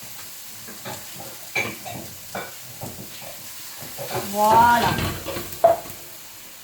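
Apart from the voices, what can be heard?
chicken and peppers stir-frying and sizzling in a wok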